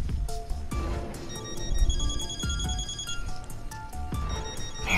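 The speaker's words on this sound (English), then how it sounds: "Man, this detective won't stop calling." A phone rings in the video game Death End Re;quest, a repeating electronic ringtone with short bright trills over a low game soundtrack, steady and close.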